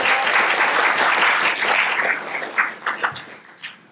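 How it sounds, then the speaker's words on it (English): An audience at a scientific conference session claps in a steady dense round that thins toward the end into a few scattered, louder individual claps. "Another round of applause."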